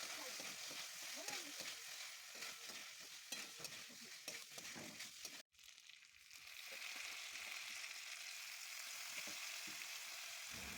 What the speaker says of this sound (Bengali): মশলা কষে তেল বেরিয়ে এলে ভেজে রাখা আলু দিয়ে ভালো করে কষিয়ে নেব।